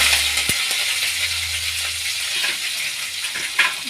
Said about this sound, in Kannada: ಜಾರಿಗೆ ಮೆಣಸಿನ್ಕಾಯಿ ಈಗ ಫ್ರೈ ಮಾಡ್ಕೊಳ್ಳೋಣ ಎಣ್ಣೆಗೆ